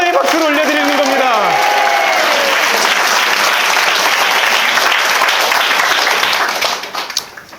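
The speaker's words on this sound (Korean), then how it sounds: "하나님께 우리 영광의 박수 올려드리고 시작합시다" Congregation in a church service applauding together, a dense, sustained burst of clapping that stays loud throughout, with a brief voice at the start, then tapering off near the end.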